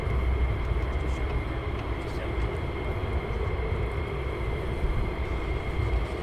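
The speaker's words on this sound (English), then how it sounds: "you're listening to F-15s taking off from Lakenheath" F-15 fighter jets taxiing and taking off at RAF Lakenheath, a steady distant roar of jet engines rumbling continuously with no breaks, heard from afar.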